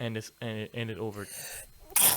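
A single sharp sneeze bursts out at the very end, right after a brief stretch of someone talking.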